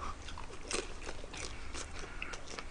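Someone bites into and chews fried dumplings (gun-mandu) at a Korean meal of steak, sweet-and-sour pork and seafood jjamppong, giving close, moist crunchy bites and mouth noises in a steady run with no talk.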